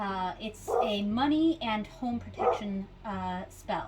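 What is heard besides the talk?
dog barking outside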